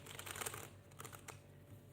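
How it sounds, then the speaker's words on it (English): Tarot cards are shuffled close up, a brisk papery riffle and flutter for about a second followed by a few soft taps and slides as the deck settles. "Let's give the cards a good shuffle."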